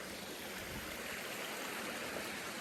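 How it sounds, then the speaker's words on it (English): Rushing creek water at a crossing below a waterfall on an Alaskan coastal hiking trail near Haines and Skagway, a steady broadband roar filling the whole stretch without a break, with no voices. "Creek crossing number 2 with the waterfall."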